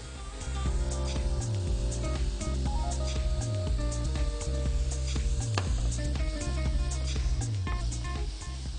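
Crushed red chili and lemon juice sizzle and roast in a frying pan, a steady loud hiss with periodic scraping strokes of a utensil recurring roughly every second.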